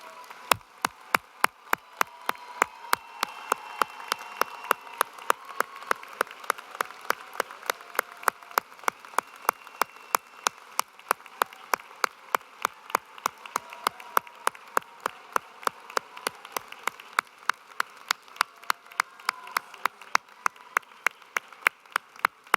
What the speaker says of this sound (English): receive a well-earned round of applause